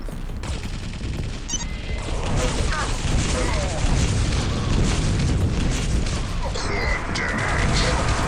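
Rockets explode in Quake 3 Arena on the Q3DM6 Camping Grounds map against nightmare bots. Dense, overlapping booms and blasts roll continuously in a loud, chaotic barrage.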